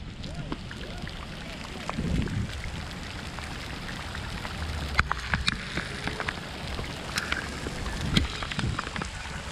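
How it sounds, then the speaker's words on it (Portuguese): Rain falling at a fishing pond, a steady hiss of drops on the water with scattered heavier splats and thumps nearby, while faint voices come and go. "Chuva, cuidado. Chuva."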